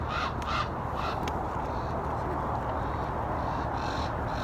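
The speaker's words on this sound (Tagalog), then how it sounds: "Wow, may uwak." A crow caws a few times outdoors at a shopping mall in Calgary, faint against steady background noise.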